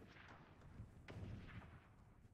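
Dull, booming gunfire in Fortnite, a few muffled shots overlapping at mid distance with no talking.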